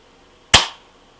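A single sharp, close snap as the trigger of a Well M16A3 spring airsoft rifle is pulled, one crisp shot-like crack that decays quickly into quiet.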